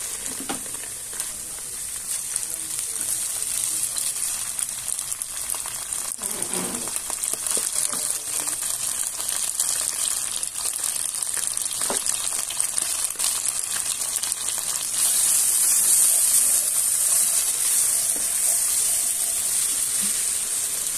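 Ground spice paste frying in a pan over low heat for a Bengali duck curry, a steady soft sizzle running throughout with occasional stirring scrapes, close and fairly even, no talking.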